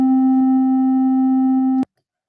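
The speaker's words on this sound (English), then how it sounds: "Now square wave." A synthesizer oscillator on a square wave sounds a steady, hollow low tone for just under two seconds before stopping sharply, leaving silence.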